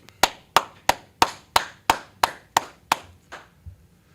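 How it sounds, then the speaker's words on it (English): An audience at an Israelite street teaching in Houston claps in unison, about a dozen sharp, evenly spaced claps at a steady quick beat, loud and close, with no talking. "Clap it up"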